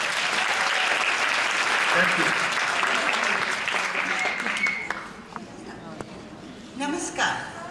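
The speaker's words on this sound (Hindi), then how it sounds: "आज की नारी के लिए तालियां हो जाएं" Audience applause for today's women at a women's empowerment monologue play, loud and dense for about five seconds before fading, followed by a brief spoken thanks.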